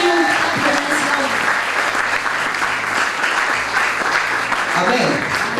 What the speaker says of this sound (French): acclame très fort pour ce message